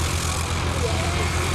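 A Piper light aircraft of the Sherman Aero Club, painted British Racing Green, drones steadily at an air show on a former RAF airfield, its propeller engine a constant low hum under a voice talking.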